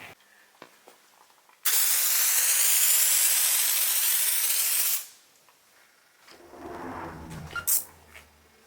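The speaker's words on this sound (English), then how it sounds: "Spray it with the Release Ultra, wipe it off, no rinse it." Release Ultra cleaner sprayed onto the white paint of a Piper M500 turboprop, one long, steady, loud aerosol hiss lasting a few seconds, followed by softer rubbing and wiping sounds.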